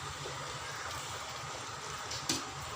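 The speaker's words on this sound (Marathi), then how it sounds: "त्याला 2 वेळेस पाण्याने चांगले धुवून घ्यायचं।" Cut bitter gourd pieces, salted earlier, are rinsed in water, giving a steady close splashing and trickling wash throughout with one brief louder slosh near the end.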